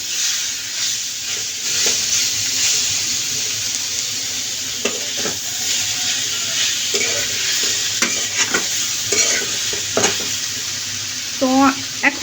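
Bottle gourd leaves (lau shak bhaji) frying in a pan, a loud constant sizzle with a hiss, broken by repeated scraping stirs and clinks of a spatula against the pan, close and busy.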